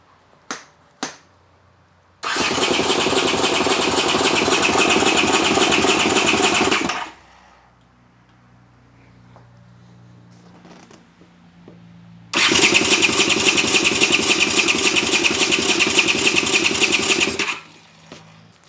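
A Honda CX500 motorcycle engine cranks loudly in two long starter bursts. A low, faint rumbling idle fills the pause between them.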